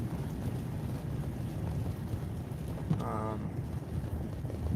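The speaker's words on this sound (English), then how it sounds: "It's kind of windy, so it's gusting and blowing around." Gusting wind buffets a microphone outdoors on a snowy Minneapolis street, a steady low roar that rises and falls throughout, with a brief tonal sound partway through.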